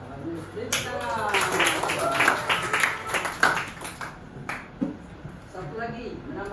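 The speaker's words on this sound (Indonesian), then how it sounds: "Bagus, beri tepuk tangan." Students in a classroom clap for a classmate's answer, a scattered round of hand claps swelling and fading under overlapping voices and chatter nearby.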